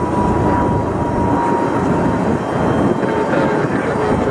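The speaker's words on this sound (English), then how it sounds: "Delta 1691, our A321 is heading to Atlanta" Steady, loud broadband jet roar from a Delta Airbus A321 airliner at an airport, a continuous rumble holding level for the full span with no pauses.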